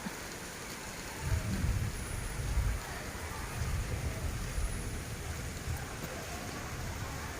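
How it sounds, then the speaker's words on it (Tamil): Rain patters steadily while low, distant thunder rumbles in a few rolling swells beneath it. "இடி வந்து பயங்கரமாக இடிச்சிட்டு இருக்குங்க ஃப்ரெண்ட்ஸ்."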